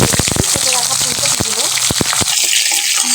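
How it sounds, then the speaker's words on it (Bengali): Dry red chillies, radhuni and whole cumin seeds hitting hot oil for tempering, a loud, dense crackling sizzle that continues throughout while a person talks over it. "ফোড়নে দিয়ে দেব শুকনো লঙ্কা, এখানে দিয়ে দিচ্ছি কয়েকটা রাঁধুনি ফোড়নে, আর দিয়েছি কয়েকটা গোটা জিরা"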